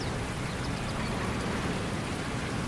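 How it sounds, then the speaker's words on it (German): Steady, dense rain hissing loudly and evenly in the WWII strategy game Codename: Panzer Phase One, with no voices over it. "Ja, sag mal, es regnet aber."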